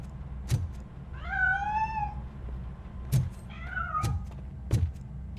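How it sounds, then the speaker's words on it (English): A cat meows twice in the video game RoboCop: Rogue City, drawn-out and plaintive, alongside a few soft thuds, with a low steady hum underneath. "That cat must be hiding inside."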